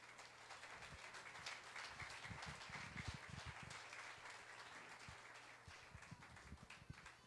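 Congregation applause in a church service, a sustained wash of clapping with a low hum underneath.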